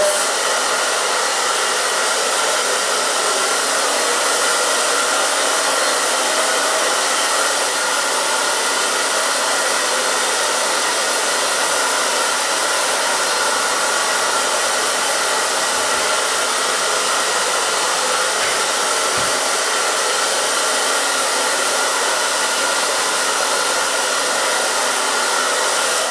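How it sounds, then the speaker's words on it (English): A hair dryer blows steadily and loudly with a continuous high whooshing hiss, running without a break from start to finish. "And the blow dryer."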